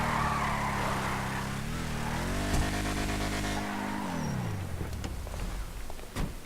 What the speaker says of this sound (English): the engine noise is actually quite suited for the car